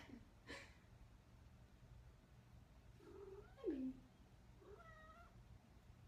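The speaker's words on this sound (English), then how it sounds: "There's my cat." A pet cat indoors gives a couple of short, soft meows a few seconds apart against a quiet room background, faint and close, with no one speaking.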